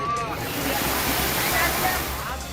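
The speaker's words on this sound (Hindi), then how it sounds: "पानी की रफ्तार इतनी तेज है कि गाड़ियां तिनके की तरह बह रही हैं।" Rushing floodwater after heavy rain pours through a flooded city chowk in Latur, Maharashtra, a steady loud roaring wash of water with no break.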